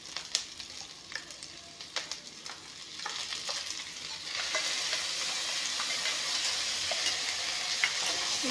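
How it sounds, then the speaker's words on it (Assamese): Spice paste stirred into onions already frying in a pan for a fish curry sizzles steadily, with scraping stir strokes early on before the frying hiss swells louder and holds. "পেষ্টখিনি দি ভাজি ল'ম"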